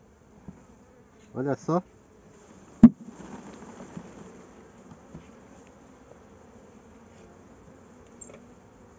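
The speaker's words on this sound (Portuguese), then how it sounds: "Olha o tanto de abelha que tem." A honeybee swarm hums faintly and continuously in the background, a thin steady drone beneath a few short spoken words and some handling sounds.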